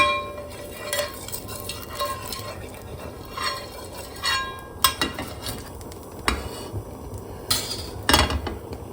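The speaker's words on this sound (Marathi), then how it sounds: "या पॅनमध्ये आता आपण थोडं तेल घालणार हे असं पसरून घेणार" Oil is spread around a pan and heated on a gas stove for a tomato omelette, with intermittent scrapes and clinks of a utensil over a steady low background hiss, close and moderately loud, with no talking.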